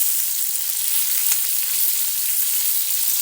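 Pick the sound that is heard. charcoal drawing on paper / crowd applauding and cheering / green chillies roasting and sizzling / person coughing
green chillies roasting and sizzling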